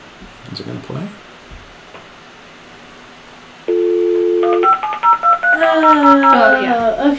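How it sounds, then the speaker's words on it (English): A dial-up computer modem connecting to the internet: a few seconds of quiet talk, then a steady tone, followed by warbling handshake beeps and chirps that grow busier and louder. "That's the sound Yeah. that the computers made when they connected to the internet."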